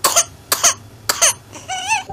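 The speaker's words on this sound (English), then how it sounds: "Coughing, sneezing," Three short, sharp coughs come in quick succession, close and fairly loud, then a brief wheezy, whining breath that trails off.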